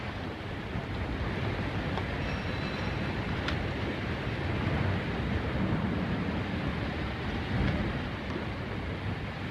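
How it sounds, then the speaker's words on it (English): A train pulls away from a railway station platform: a faint, continuous low rumble and hiss with no voices. "there's a train leaving now, platform 12"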